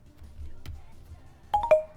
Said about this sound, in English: I'm getting like a bunch of notifications that are going doo-doop, doo-doop, doo-doop.